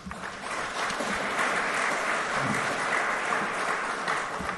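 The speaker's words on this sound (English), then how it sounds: "a round of applause for you" An audience at a Camp Lejeune award dinner breaks into steady, sustained applause, a dense wash of clapping that holds at an even level throughout with no voices standing out.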